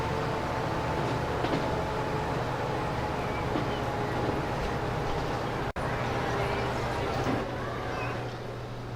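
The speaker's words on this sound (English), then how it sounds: "Oh, there's the other train." A passenger train in the Transport Fever game runs with a steady rumbling drone and faint tonal hum, with a single sharp click midway and the sound easing slightly toward the end.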